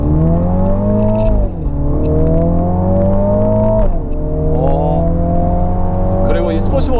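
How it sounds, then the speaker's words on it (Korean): Engine and exhaust of a Mini JCW Clubman under way in manual sport mode, a loud steady drone climbing in pitch through the gears with brief drops at each shift, heard from inside the car. "이 JCW 엔진 사운드가 괜찮은 것 같아요."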